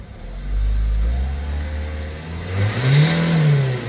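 A Citroën Jumpy van's engine revs up from a low idle, rising sharply near the end as the turbo spools in with a whistling whine; close, steady and without talk.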